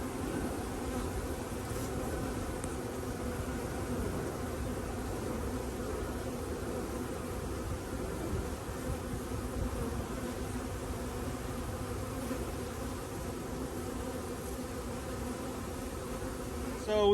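Honey bees from a newly installed bee package hum and buzz continuously around a farm hive, a dense steady drone of many insects at close range with no talk.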